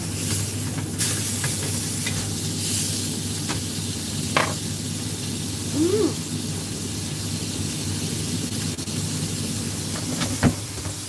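Steak and vegetables frying in a home-cooking pan, a steady close sizzle and hiss running throughout with a few light stirring knocks and scrapes.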